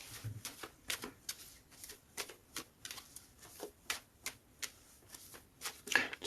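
Tarot deck being cut and shuffled, a quick run of crisp card riffles and slaps at a steady, uneven rhythm, close and fairly quiet with no talking.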